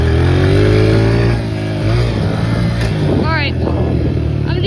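A 4-stroke dirt bike running laps, its engine giving a loud, steady drone that rises and falls with the throttle, with a voice heard over it partway through.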